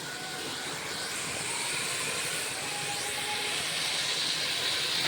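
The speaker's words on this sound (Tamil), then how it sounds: "இந்த காய்கறிகள்லாம் இந்த ஆயிலில் நம்ம வதக்குறோம்." Capsicum and zucchini sautéing in oil, a steady broad hissing sizzle holding even and continuous throughout, moderately close with no talk.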